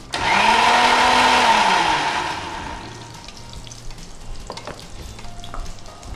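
A mixer grinder whirs loudly for about two seconds while grinding a curd masala paste, then winds down and gives way to faint kitchen clatter.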